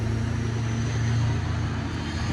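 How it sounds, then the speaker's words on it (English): A loud truck passes close by, giving a steady low rumble with a broad engine roar that holds for the whole stretch, with no talk over it. "That loud truck."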